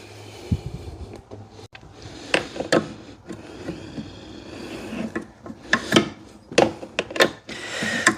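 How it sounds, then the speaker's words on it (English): Wrench work on the master brake cylinder bolts of a Saturn Sky: close metallic ratcheting clicks and scraping tool strokes in irregular bursts that grow busier toward the end, with no talking. "And then I'll grab my wrench and we'll tighten them down."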